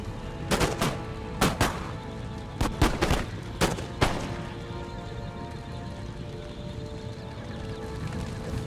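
Musket volleys crack out in an Empire: Total War battle, a string of sharp, loud bursts over the first four seconds, some in quick pairs, then a rumbling battlefield din.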